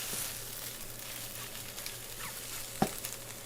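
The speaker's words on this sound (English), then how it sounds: "And then eggs are still cooking" Eggs fry in a pan with a soft, steady sizzle that holds at low volume throughout, broken near the end by a single sharp clink of a utensil.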